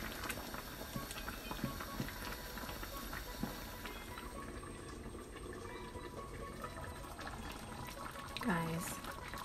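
A big, very full pot of red peas soup simmers and bubbles on the stove, a steady close patter of boiling liquid running throughout with a few small kitchen clinks and a brief scrape near the end.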